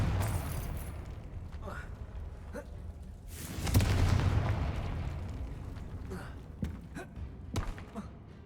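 A Confringo fire spell from Hogwarts Legacy bursts at mid-distance, a loud whooshing blast swelling around the middle and trailing off under game ambience and scattered clicks.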